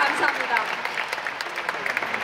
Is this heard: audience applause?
yes